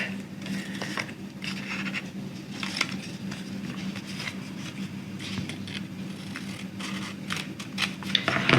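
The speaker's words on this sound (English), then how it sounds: "you're going to want to trim your tabs just like we did with the base" Scissors snip repeatedly through paper tabs, cutting them in half while making a paper star, with quiet, irregular close-up cuts and light paper rustling throughout.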